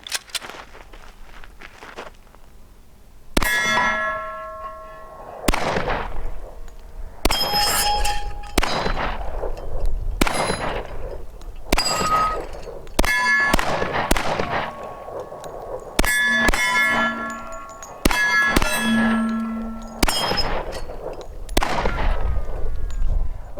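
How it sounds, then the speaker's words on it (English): A Glock 20 pistol with a 6-inch KKM barrel fires .40 Super rounds as roughly a dozen sharp, loud shots spaced a second or two apart, each followed by a ringing metallic clang and decay, with no talk. "shooting them out of my Glock 20 with a 6-inch KKM barrel"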